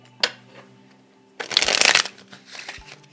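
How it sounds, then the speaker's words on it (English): Tarot cards are shuffled in a quick riffle burst, close up, after a light tap, with soft handling noises around it. "And one more shuffle."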